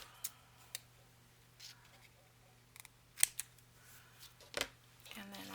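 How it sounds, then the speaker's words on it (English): Scissors snip paper for a journal belly band in several separate, crisp cuts spread out with pauses, close and fairly quiet, with light paper handling between them. "Trim that off."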